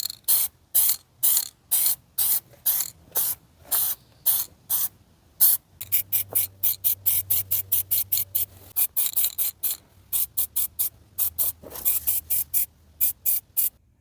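A spray paint can in Hitachi John Deere dark gray touches up the stick of a John Deere 27D mini excavator. It fires many short, close hissing bursts, some spaced apart and others in quick runs.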